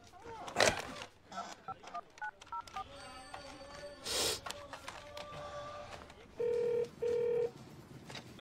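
A series of short electronic phone tones, ending in two longer steady beeps, with faint background noise and brief rustles between them.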